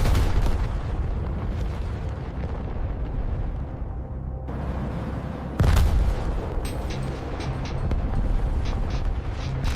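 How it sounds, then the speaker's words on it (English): Missile hits in an aerial dogfight over mountainous Bosnia, heard as heavy rumbling explosions and booming blasts, with a sharp new impact midway followed by crackling bursts and pops, loud and sustained with no talking. "explosions echo across the mountains"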